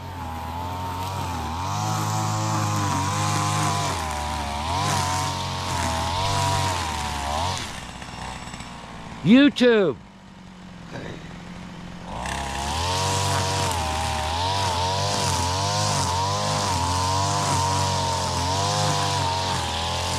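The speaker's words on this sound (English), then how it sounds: "Yep, chainsaw." A chainsaw cuts a branch on former cattle pasture land, its loud, steady engine drone running for several seconds, briefly dropping away with a sharp crack midway, then roaring back.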